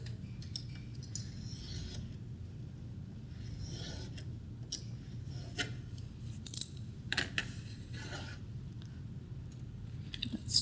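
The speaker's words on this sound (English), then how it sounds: "I'm just going to eyeball and cut a little strip" Scissors trim a small strip from a flap of archival board while a four-flap enclosure for library materials is being made. Several short, crisp snips and slicing strokes sound close by against a quiet room, with light rustling between cuts.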